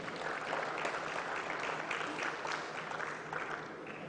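A large audience at a national consultative dialogue on small-scale mining breaks into loud, continuous applause, a dense wash of clapping that holds steady and tapers slightly at the end.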